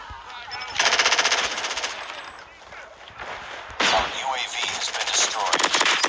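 Sentry gun in a Call of Duty match firing in long automatic bursts, loud and close, with a brief lull between two sustained strings of rapid shots.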